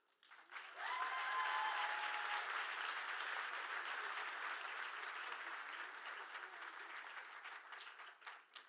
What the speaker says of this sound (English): And let's give another big round of applause to Josiah, Isis.